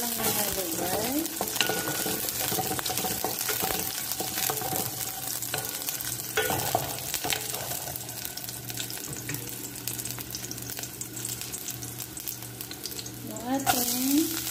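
Garlic frying in a pan while being stirred, a steady sizzle broken by scraping utensil strokes against the pan, close and fairly loud, with a brief spoken voice under it.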